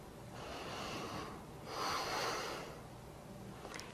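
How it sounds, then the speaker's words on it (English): Deep breaths taken during a yoga warm-up stretch: two long, soft, airy swells of breath, close by, one inhale then a fuller exhale, with no talking. "And breathe."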